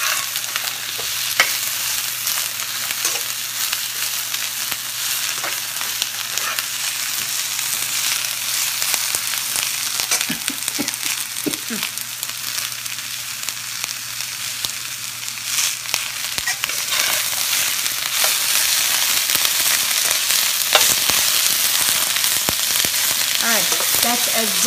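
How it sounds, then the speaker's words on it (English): Vegetables sizzle and crackle steadily as they are stir-fried in a hot pan, with occasional scraping stirs, loud and close for the whole stretch. "I'm not gonna be stir frying it anymore"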